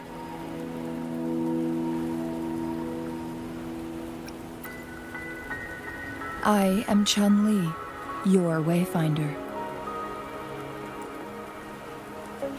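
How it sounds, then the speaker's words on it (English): Steady rain falls throughout a scene in the video game Wuthering Waves, a soft continuous patter beneath music tones, with a character's voice speaking briefly in the second half. "Don't worry, the rain won't last much longer."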